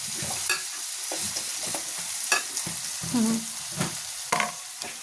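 Onion, green chilli and garlic sauté in a pan for a chicken curry, with steady close sizzling, repeated stirring scrapes and clinks of a spoon throughout, and no talk.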